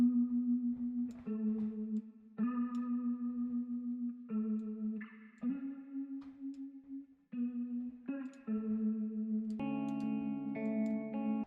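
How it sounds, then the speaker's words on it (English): A live electric guitar played in FL Studio, heavily drenched in reverb for an ambient feel, plays a sustained melodic line of held notes with shifting pitches and chords, alone without talk. "we'll also drench this one out in reverb"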